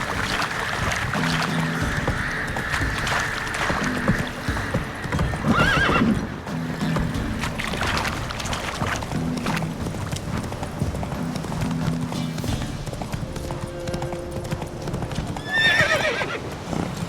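Steady clip-clop of horse hooves trotting with occasional neighs and whinnies, plus background music-like tones, loud and continuous throughout, in the video game The Witcher 3: Wild Hunt.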